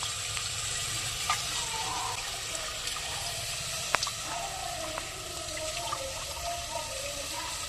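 Tamarind water poured into a simmering Tamil village-style fish curry makes a soft, continuous watery splash and sizzle, with small bubbling ticks and one sharp click midway.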